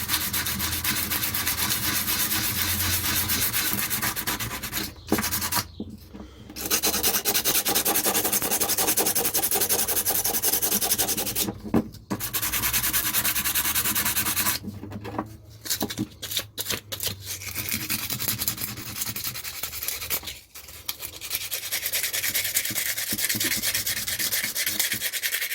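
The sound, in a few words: scrubbing rust off a metal tool blade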